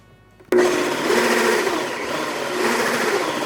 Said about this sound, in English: And blend the oats one more time before adding in the rest of the ingredients.